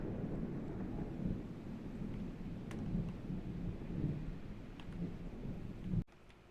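A waterspout storm in a realistic Minecraft modpack roars as a steady, dense low rumble with rain-like hiss, constant and fairly loud throughout before cutting off abruptly near the end.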